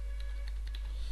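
Keys on a computer keyboard tap out code in a quick, steady run of light clicks close to the mic, over a strong low hum.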